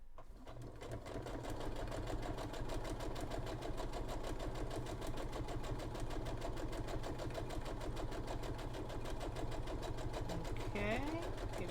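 Steady, fast mechanical whir and chatter of a sewing machine running a close seam, loud and continuous for the whole stretch with a brief vocal sound near the end.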